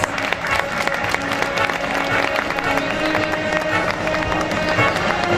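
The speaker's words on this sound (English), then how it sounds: "Shall we have the claps, dear audience?" Audience applause for a chief guest at a school event, a continuous crowd of clapping with a lively murmur of voices underneath throughout.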